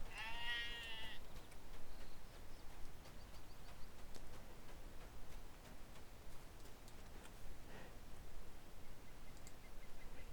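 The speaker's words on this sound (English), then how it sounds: "So now the sheep is now following us." A sheep bleats once near the start of a farm quest in an online role-playing game, a wavering nasal call over a steady bed of ambient game sound with soft ticking, then only the quiet background continues.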